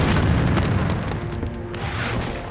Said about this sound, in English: The entire sector was covered with such a barrage that we thought all hell had broken loose.